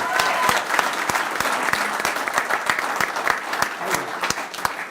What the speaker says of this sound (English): just give me a round of applause, even though he's not here.